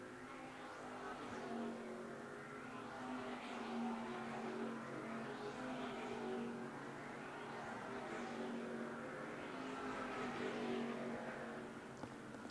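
Sunoco modified race cars roar around Thompson Speedway in a steady, distant engine drone, with faint swells as the pack passes during the closing laps.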